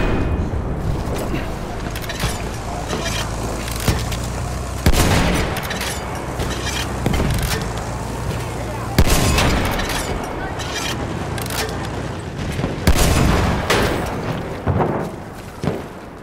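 Battlefield 1 combat: repeated loud booms of grenade and shell explosions mixed with rattling bursts of gunfire, dense and close throughout, with faint voices under the din.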